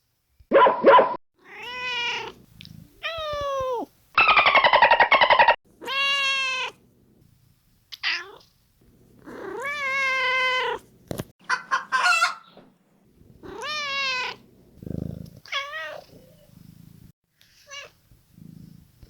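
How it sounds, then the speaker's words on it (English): Several cats meow one after another in short separate calls with pauses between them, clear and close, mixed with rooster-like crowing and clucking. "Listen to this and tell me how many kitty cats do you hear meow?"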